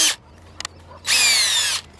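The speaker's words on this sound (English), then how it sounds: "the other end screws into a drill." A power drill spins a dryer vent cleaning brush in short bursts: a brief whir, a couple of light taps, then a longer loud high-pitched whine lasting under a second, close by with no talking.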